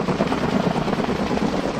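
A helicopter flying overhead in the Swiss mountains gives a loud, steady rotor throb and engine roar filling the whole short stretch.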